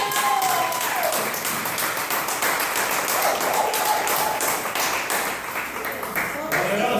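Church audience clapping in a steady, dense round of applause after a sermon summary on Galatians, with voices talking over it throughout.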